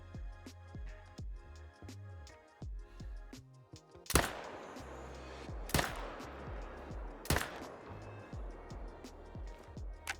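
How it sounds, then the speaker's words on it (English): A rifle firing at a massive red deer in a hunting video game: three sharp, loud shots spaced a second or two apart, each with a short echoing tail, over a ticking, rhythmic background. "I think it's time we shoot this thing."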